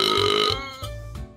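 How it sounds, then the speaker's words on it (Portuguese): A long, loud burp rolls out in one sustained belch, breaking into a second guttural push partway through, heard up close during a Minecraft gaming session with no talking. "Oh, meu Deus, ninguém arrota."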